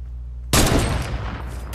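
A single sniper rifle shot in a shooter video game: abrupt, loud crack after a short quiet stretch, trailing into a rough, fading echo.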